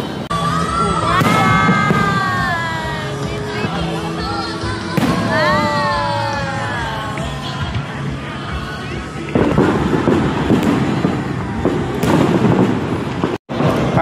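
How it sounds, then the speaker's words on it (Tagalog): Anniversary celebration fireworks going off outdoors at night in light drizzle, a dense, continuous run of booms and crackles with whistling rockets rising, crowd voices and children shouting mixed in throughout. "Fireworks na."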